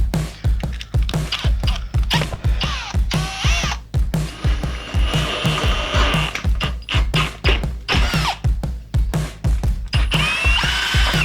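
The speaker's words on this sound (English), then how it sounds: "Now we're gonna finish drilling it out with a 5/16 bit." A power drill with a 5/16 bit whirs in repeated short bursts drilling out holes, loud and close, with brief pauses and tool clatter between runs.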